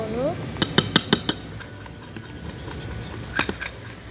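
Slime mixture being stirred in a container: a run of quick light clinks and taps early on, then a softer wet swish and a couple more taps, fairly quiet and close.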